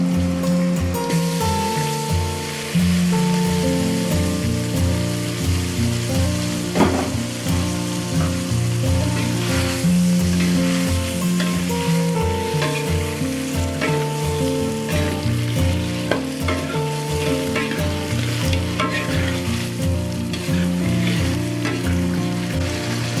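Shrimp sizzle loudly in a hot pan while being stirred, a dense continuous crackle with scraping stir strokes and occasional clanks, along with steady tonal background music.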